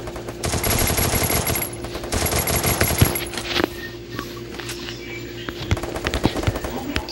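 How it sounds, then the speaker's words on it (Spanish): Rapid automatic gunfire in a video game training mode crackles in two dense bursts, followed by scattered single shots and quieter background game sounds. "Okay, uno me está disparando."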